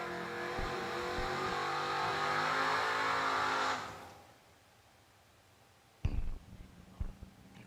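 A drag racing car roars at full throttle down a raceway strip, a loud sustained engine howl that fades quickly into the distance, followed by a sharp burst and sputtering pops from another car near the line.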